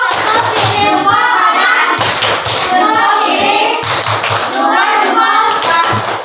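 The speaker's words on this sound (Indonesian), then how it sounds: "Tepuk tangan, kasih 2 jempol untuk temannya dulu." Children clapping hands together in a classroom, a dense burst of applause that stops and restarts in roughly two-second rounds, with a teacher's voice speaking over it.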